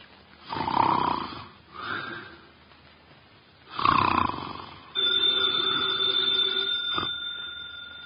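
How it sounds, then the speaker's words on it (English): A man snores in slow, rough, rasping breaths, two long snores close by, followed by a steady ringing tone. "His eyes are closed, and he's making sounds through his nose."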